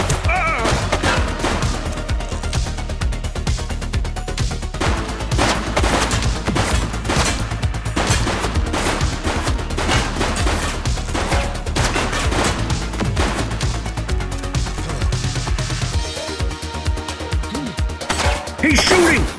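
Gunfire in The Precinct police video game: rapid bursts of shots and impacts fire continuously for about twenty seconds, loud and dense over a low, steady backdrop of game sound.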